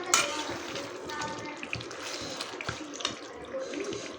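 Broth poured into a pot of beef and potato curry, a steady liquid splashing and trickling that runs close and fairly faint throughout, with light kitchen clatter.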